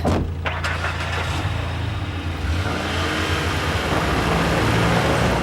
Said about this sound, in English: You have the engine idle sound going, and then they all of a sudden start the engine again.